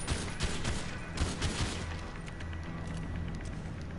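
Assault rifle fire in the GTA video game arrives as several sharp, close shots in the first half, then gives way to a quieter rumbling background.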